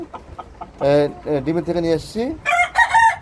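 Farm chickens of hill and black Australorp types cluck and squawk close by, a rooster's crow rising through the middle, with scattered rustles between calls.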